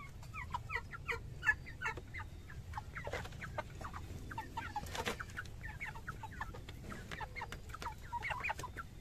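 Backyard farm chickens cluck and squawk in scattered bursts over a low steady background while pecking at a feed of rice mixed with grated coconut pulp, with no talk.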